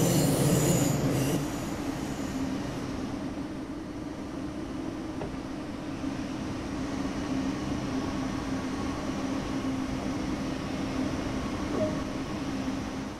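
A Siemens ICE 3 high-speed train, an eight-car third-generation intercity express in the game Train Sim World 2, runs steadily with a continuous rumbling roar and faint wheel hum, no voices.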